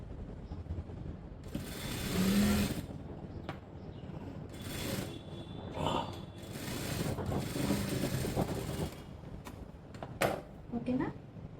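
Sewing machine stitching the neckline of a blouse: a steady mechanical whirr and rattle running in bursts, close by, with someone talking over it.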